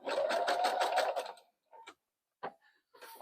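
A sewing machine runs a zigzag stitch on a jelly roll rug in a fast, rhythmic burst of clattering stitches, then a few short separate stitches after a pause, loud and close.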